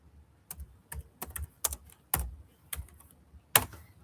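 Key presses on a computer keyboard, close and crisp, in an irregular run of about a dozen separate clicks with short pauses between them and no talking.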